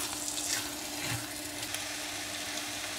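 An egg, spinach and prawn scramble cooking in a frying pan, with a continuous soft sizzle and occasional scraping of stirring, moderately quiet and without talk.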